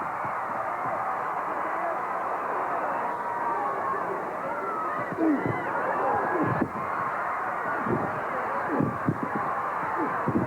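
A crowd of more than 15,000 at a 1984 wrestling arena roars steadily, a broad, far-off wash of cheering and yelling with louder surges partway through.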